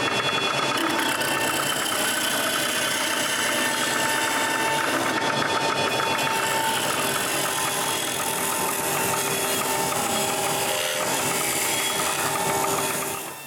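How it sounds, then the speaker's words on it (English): A wood lathe spins while a tool hollows out the interior of a wooden candy bowl, giving a loud, continuous whirring with scraping and cutting noise close by, easing off only at the end. "I unscrew the bowl, remove the screw, and chuck the bowl to the lathe. Then I can remove the interior of the bowl."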